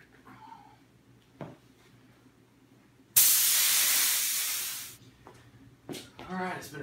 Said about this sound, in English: Now I need to spray this cloth